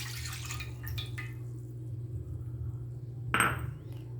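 Water going into coconut milk in a cooking pan, with faint liquid trickling early on, a low steady hum underneath, and a short, bright splash near the end.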